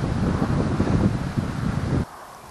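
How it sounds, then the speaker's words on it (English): A cold easterly wind buffets a microphone outdoors, producing a loud, rumbling roar that surges and dips for about two seconds before cutting off abruptly to near quiet. "I'm sort of facing into this easterly wind"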